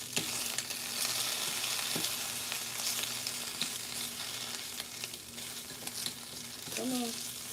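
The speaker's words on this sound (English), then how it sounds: "I am going to turn over the bacon." Bacon frying as it is turned over, a dense continuous crackling sizzle close by with a few soft knocks from the utensil and a short vocal sound near the end.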